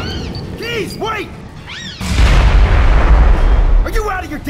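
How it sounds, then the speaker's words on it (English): A grenade blasts in the sci-fi shooter game Aliens: Colonial Marines, a sudden loud boom followed by a sustained rumbling roar, with shouted voices and synthetic whoops before and after it. "Explosion locked the door!"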